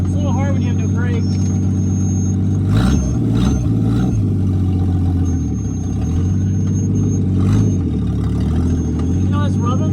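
An old Studebaker car with no brakes, back on the road after 30 years, drives with its engine running in a loud, low, steady rumble that rises and falls. People talk over it.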